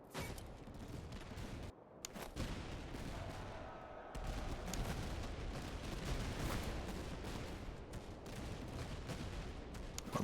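Musket volleys and scattered gunfire from a Napoleonic-era battle in the strategy game Master of Command, with Austrian border troops in action, forming a dense, continuous crackle of shots and battle noise that lasts throughout without any speech.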